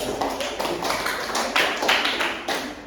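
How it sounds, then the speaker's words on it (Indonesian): Classroom applause for a student during a seventh-grade microteaching lesson, a steady patter of many hands clapping at moderate distance, with a few stronger bursts toward the end and no voices. "Aplaus untuk teman yang menjadi."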